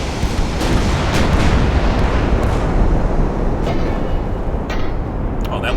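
Naval artillery in Ultimate Admiral Dreadnoughts sounds as a dense, continuous roar of big guns and distant explosions. Rumbling booms overlap without pause and stay loud throughout.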